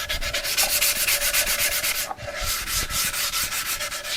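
Light hand sanding along the freshly routed edges of a wooden cutting board, a steady run of rhythmic rubbing strokes, close and fairly loud, with a brief pause midway before the strokes resume.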